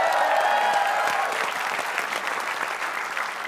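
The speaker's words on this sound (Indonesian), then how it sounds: "Tepuk tangan dong." An audience at a live comedy game show breaks into steady, loud applause, dense clapping that holds throughout and eases only slightly toward the end.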